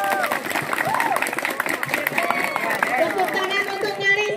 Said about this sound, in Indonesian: coba tepuk tangan buat Intan.